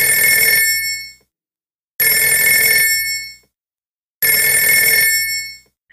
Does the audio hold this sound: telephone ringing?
yes